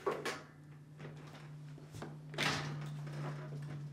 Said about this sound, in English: Now, turn the dishwasher back around and open the door.